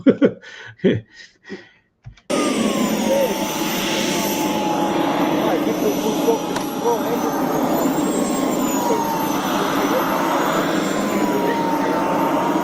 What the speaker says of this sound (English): This is a half-scale BD5 Hemet jet.